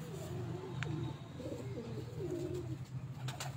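Pigeons cooing on a rooftop, soft repeated low coos rising and falling in a steady run, fairly faint with light ambient noise and a few brief chirps, no voices.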